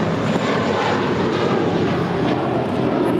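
A four-year-old JetBlue Airbus A321 jet airliner roars at LAX, a loud, dense, steady engine rumble with broad hiss filling the whole stretch and no voices.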